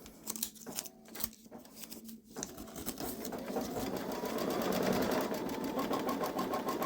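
A Babylock Solaris embroidery machine stitches a zigzag outline, its needle hammering in a fast, even mechanical rhythm that builds from a few stop-start bursts into continuous running, heard up close.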